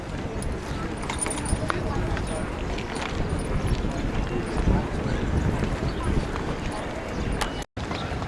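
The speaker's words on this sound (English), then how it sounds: "And all these horse and carts out here." Horse hooves clip-clop on the stone of a palace courtyard in Scotland as horse-drawn carts pass, a steady busy patter under continuous outdoor ambience and nearby talk.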